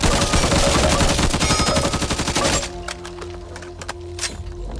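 Dense, rapid gunfire from weapons being tried out in the video game Back 4 Blood, a loud burst of automatic shots with sharp cracks, followed by a quieter stretch of scattered single shots and impacts.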